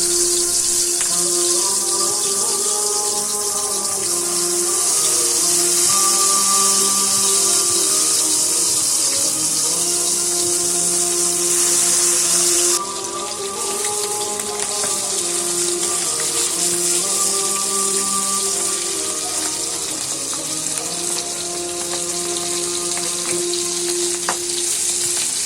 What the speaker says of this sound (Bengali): তেল গরম হলে এক এক করে মাছ ঢেলে দিলাম।